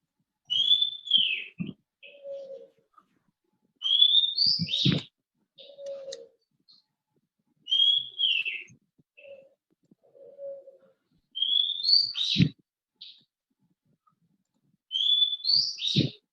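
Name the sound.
birds chirping outside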